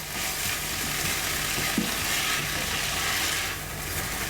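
Garlic and ginger, two teaspoons of each, fry in a pan of Chicken Kroma with a loud, steady hiss of sizzling oil, close up, with a faint scrape of stirring and no talking.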